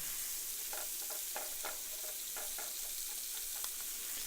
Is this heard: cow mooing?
no